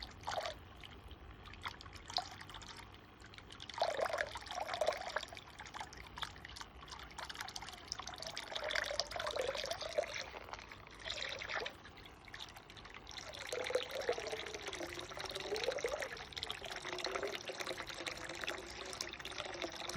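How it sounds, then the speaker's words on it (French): Water mixed with two dissolving tablets is poured slowly into the drain of an inexpensive above-ground Bestway pool, giving a steady close trickle and splash with shifting gurgles and no talk. "verser dans l'évacuation de l'eau de la piscine. Doucement. L'eau avec les deux pastilles."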